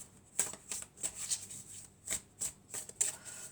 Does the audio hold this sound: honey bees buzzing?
no